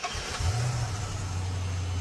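A Ford Mustang EcoBoost engine cranks and catches, then settles into a loud, steady idle with a low droning rumble, heard close up and alone.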